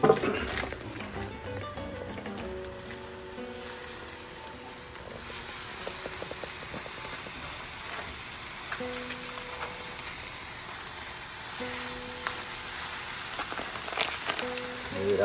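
Vegetables sauté in a pan inside a wood-fired oven, a soft continuous sizzle and crackle like light rain that runs the whole time, with faint clinks now and then.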